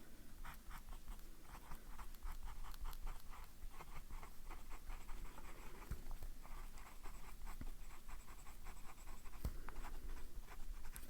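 An extra fine Sailor fountain pen nib scratches across paper in small grid squares, with a quiet, continuous rhythm of short strokes and faint taps throughout, close and soft, with no talking.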